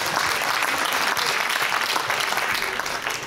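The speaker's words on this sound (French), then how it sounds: "Bravo, vraiment, applaudissez-le encore" An audience at a French political debate gives loud, sustained applause, a dense wash of many hands clapping steadily and evenly from start to finish.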